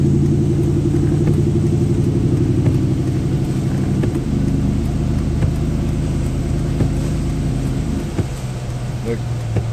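Cars crawling through flooded traffic near Addicks Reservoir in Houston, heard as a steady, close mid-pitched engine rumble with low hum that continues throughout, no speech.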